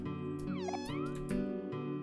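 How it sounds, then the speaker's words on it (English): A cat in the video game OMORI gives a short, clear meow over a steady layer of game background music. "It's a cat."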